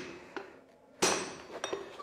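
A hammer strikes red-hot metal at a forge, one sharp ringing blow standing out among a few lighter metallic taps, close and fairly loud, with no talking.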